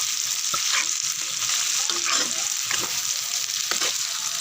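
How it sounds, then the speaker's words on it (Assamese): Chicken fries with onion, salt and turmeric for Assamese-style masala chicken, giving a loud, continuous close sizzle with occasional stirring scrapes and no talk. "নিমখ হালধি আৰু পিঁয়াজ দিহে ভাজিছোঁ"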